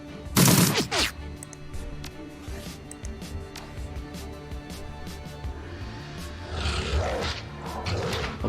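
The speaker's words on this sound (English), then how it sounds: "Alright, Blitz, just shoot him." Gunfire in the video game Shadowrun: Dragonfall opens with a loud burst of shots, followed by mechanical clatter and scattered impacts, then a second flurry of shots near the end.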